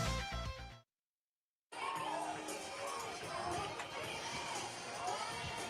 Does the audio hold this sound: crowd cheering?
yes